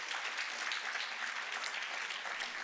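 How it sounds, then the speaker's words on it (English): An audience claps its thanks at a lifelong learning programme event, a steady, even wash of many hands heard at a modest distance with no speech over it. "so let's clap hands to thank them all."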